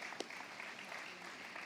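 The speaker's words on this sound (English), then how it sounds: "But a big round of applause for her," Faint, steady applause from an audience at an awards night for basketball and scholarship recipients, heard distantly with one sharper clap standing out near the start.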